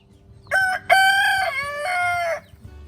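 A rooster crows loudly and close by, one long drawn-out call in several rising and falling segments, with faint clucking in the background.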